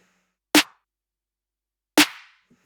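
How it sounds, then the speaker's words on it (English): Two dry snare drum samples without channel strip processing crack sharply about one and a half seconds apart, each short and punchy with a quick decay, heard alone with no talking. "without the channel strip here, the snares would sound like this"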